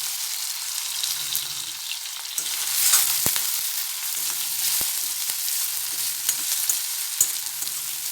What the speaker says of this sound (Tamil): வெங்காயம் கொஞ்சம் கலர் மாறி வதங்கட்டும்